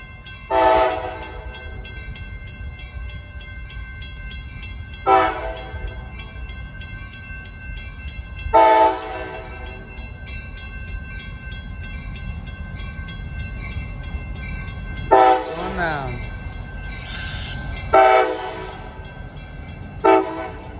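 A CSX freight train rumbles steadily past nearby, its horn sounding in several loud, evenly spaced blasts over the continuous rolling noise of the cars.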